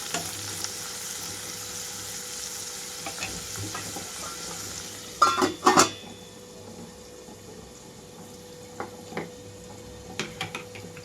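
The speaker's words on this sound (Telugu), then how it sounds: "మూత పెట్టేసి 2 నుంచి 3 నిమిషాల పాటు వేయించుకుంటున్నాను" Onions and mint sprigs fry steadily under a lid in a pan, giving a continuous soft sizzle broken by a few sharp clatters of the lid and utensil, with no voices.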